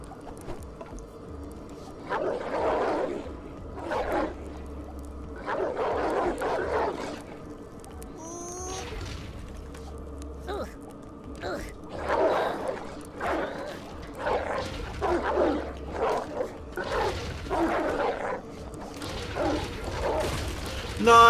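A dog in the video game Oddworld Soulstorm barks and yips in repeated bursts with short pauses between them, over low game ambience.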